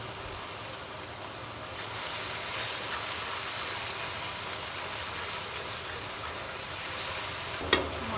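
A ground paste of cumin, onion and green chilli fries in a pan with a steady broad sizzle that swells after a couple of seconds, ending with a sharp clink near the close.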